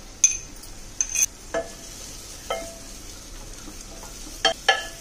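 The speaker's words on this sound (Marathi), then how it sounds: "चांगलं तेलात आपण टोमॅटो भाजून घेऊया मस्त." Tomato fries in oil in a pan, with a faint sizzle underneath and several distinct clinks and scrapes of a spoon against the pan at irregular intervals.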